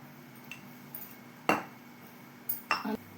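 A spoon knocks against a pan while salt and spices go in for a spicy red chili pickle. A handful of sharp, separate metallic clinks sound close by over quiet background, and no one talks.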